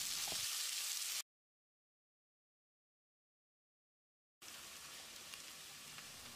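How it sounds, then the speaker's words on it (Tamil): A soft, steady sizzle of sliced onions frying in a pan breaks off into a few seconds of silence, then resumes at the same gentle level. "இதை போட்டு பொன்னிறமாக வதக்கிடலாம்"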